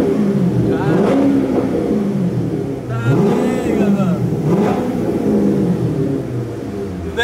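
Corvette convertible engine revving loudly and continuously at close range with the top down, rising and falling in pitch, with people talking over it throughout.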